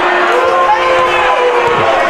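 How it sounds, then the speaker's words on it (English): A basketball crowd at a Wheaton Thunder game boos the referees after a disputed call, a loud, sustained wall of displeased voices that fills the whole moment. "The boos are starting to rain down."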